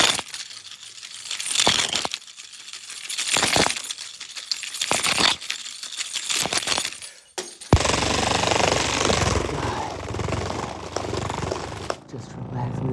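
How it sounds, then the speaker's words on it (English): ASMR keyboard keys tapped and rattled up close, coming in loud clattering bursts with brief pauses between them, then a denser continuous rattling, while a soft voice talks over it. "just massaging your keyboard"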